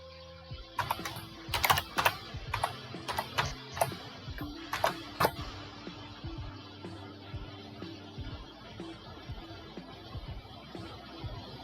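Keys tapped on a computer keyboard while entering a password on a Linux machine, a quick cluster of sharp clicks early on, then quieter scattered taps over a low room hum.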